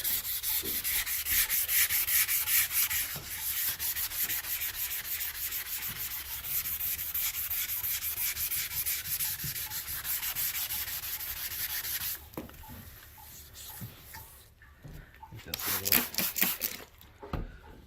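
Primer on a car body is block sanded by hand in rapid, continuous back-and-forth rasping strokes, close and steady, then breaking into slower, separate rubs near the end.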